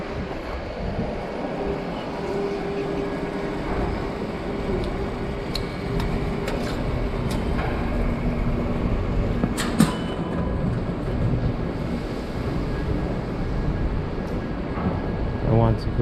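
Ambience inside a Mexico City Metro subway station: a steady broadband rumble of trains and crowd, with occasional brief clanks and squeals rising over it, continuous and moderately loud throughout, with no clear speech.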